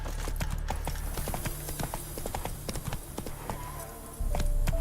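Roach, the horse in the video game The Witcher 3, gallops with steady, rapid hoofbeat clip-clops over a low rumbling game soundscape, the hooves loud and close throughout.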